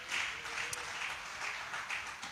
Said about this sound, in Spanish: Démosle un fuerte aplauso a nuestro Dios esta mañana.